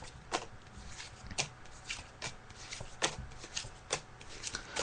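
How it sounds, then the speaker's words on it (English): Tarot cards being laid out on a table, soft papery slaps and slides in an uneven series of about a dozen light strokes, close and quiet with no talk. "I'm just laying out the cards now"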